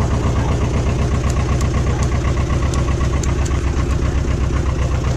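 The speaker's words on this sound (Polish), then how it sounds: "Będziemy mocno gazować, bo jest zimny silnik" A cold Ursus C-330 tractor engine with a turbo revs hard, running loudly and steadily, a deep rumbling drone with a knocking pulse, no one talking over it.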